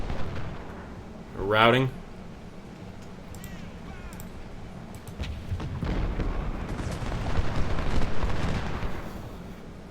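Artillery and musket fire rumble through a Civil War battle in the game Ultimate General: Civil War, with distant booms and crackling volleys building toward the end while someone talks over them.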